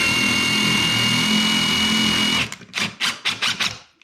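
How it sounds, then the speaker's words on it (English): A power drill running in reverse on a screw whirs steadily at high speed, then stops and gives several short, sharp trigger bursts before falling silent. The sound is close and loud. "put your drill in reverse for a little bit."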